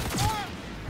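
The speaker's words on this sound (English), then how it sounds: "Why did my gun shoot?" A gun fires unexpectedly in Cyberpunk 2077 with a short burst of sharp reports, a quick cluster of shots over a brief moment, fairly close and moderately loud.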